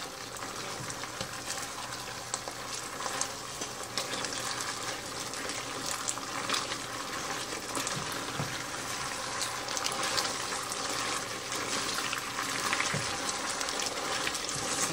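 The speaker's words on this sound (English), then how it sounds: "Alright, we're going to let this simmer away and thicken up." Honey garlic sesame chicken sauce simmering in a pan gives a steady, soft bubbling hiss that holds evenly throughout, with no voices.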